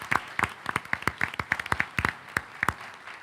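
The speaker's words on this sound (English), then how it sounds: "let's give a round of applause to the Office of Instruction" Scattered hand claps from a small group, uneven and sparse, each clap sharp and distinct over about three seconds.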